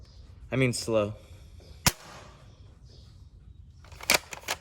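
A Nerf Villainator blaster fires foam darts: sharp, close snapping shots, one sudden crack followed by a quick cluster of pops, with brief voice-like sounds early on.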